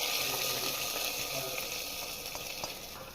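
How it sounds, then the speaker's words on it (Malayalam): Hot tempering oil with fried onion and curry leaves is poured into cumin rice porridge, bursting into a loud, close, hissing sizzle that slowly eases off. "നമുക്കിനി കഞ്ഞിയിലേക്ക് ഒഴിച്ചു കൊടുക്കാം."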